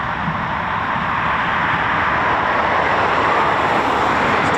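A Eurofighter Typhoon FGR4 lands at RAF Coningsby, using aerodynamic braking with its foreplanes down; a loud, continuous broadband jet roar holds steady throughout without a break.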